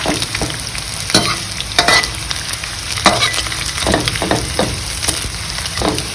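Small fish stir-fried in hot oil in a pan, a loud continuous crackling sizzle with repeated scraping stirs of a utensil through the fish, no voices.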